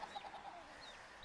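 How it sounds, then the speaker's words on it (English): Backyard chickens cluck softly in a garden, a quick run of short clucks followed by a few higher chirps, at moderate distance with faint outdoor ambience and no talk. "I check on the birds."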